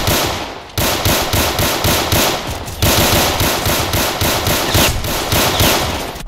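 Rapid automatic gunfire in a Roblox hood roleplay game, loud bursts of shots rattling almost continuously with a short gap near the start, no voices.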